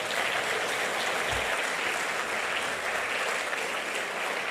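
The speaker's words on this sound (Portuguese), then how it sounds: "Vamos aplaudir ao nosso Pai nessa manhã." A church congregation applauds together during a Sunday morning service, a steady, dense wash of many hands clapping that holds evenly throughout without pause.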